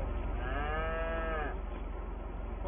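A single drawn-out cow moo from cattle grazing in a freshly cut grass field on a farm, lasting about a second and a half against steady low background rumble, with no talking.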